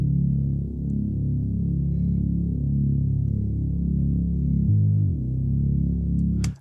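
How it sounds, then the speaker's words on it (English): A sustained atmospheric bass synth drone holds a single low note throughout, steady and prominent, with a brief swell near the end before cutting off. "So we're just gonna start off with this first bass sound,"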